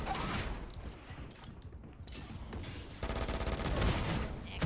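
Valorant gunfire: rapid clustered shots and rattling bursts over mechanical clicks, growing denser and louder toward the end, with no talking.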